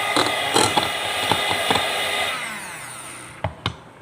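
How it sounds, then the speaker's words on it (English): Electric hand mixer whirring steadily as it beats butter, a continuous motor drone with intermittent clattering knocks of the beaters against the bowl, then the motor stops and a couple of sharp clunks follow. "You're going to be needing an electric mixer to mix the butter."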